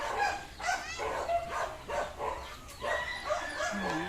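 Several dogs bark and yip repeatedly, close by, in quick irregular bursts.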